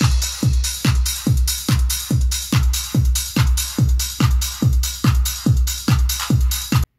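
A steady four-on-the-floor beat from an RD9 drum machine with 909 drum sounds, punchy booming kicks and crisp hi-hats ticking between them, roughly two hits per second, loud and alone.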